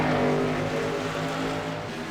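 A Toyota Camry stock car in an All Pro Xfinity Series race at Richmond roars steadily through turns 3 and 4, its engine a loud, sustained drone close by.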